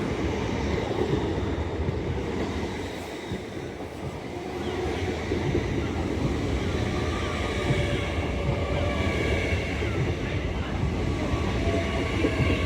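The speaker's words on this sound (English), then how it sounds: "Arriving in now is a LNER Azuma from London King's Cross to York" An LNER Azuma, unit 801221, running from London King's Cross to York, arrives at Doncaster station on the East Coast Main Line. Its loud, steady rumble holds throughout, with wheel and rail noise that dips briefly before building again.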